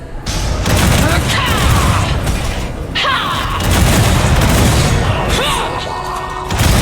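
Bombard spell explosions in War for the Overworld: a dense, continuous barrage of loud booms and crashing impacts with mechanical clatter, close and heavy, with voices speaking over the din.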